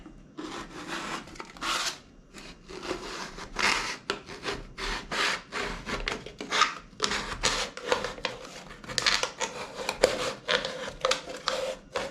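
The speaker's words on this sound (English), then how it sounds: "I'm just going to use my knife. You can use a pair of scissors. This will get the rough edge." A knife scrapes and rasps along the rough cut edge of a homemade penny can stove, making a quick irregular run of close, dry scraping strokes with short pauses between them.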